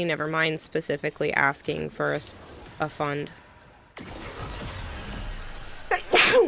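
Near the end a single sharp, loud sneeze breaks out after someone talks, set against quiet game background noise.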